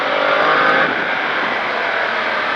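A vehicle accelerating on the Bresse race circuit, a loud, close, sustained engine roar that holds steady, then eases slightly after the first second, with no voices.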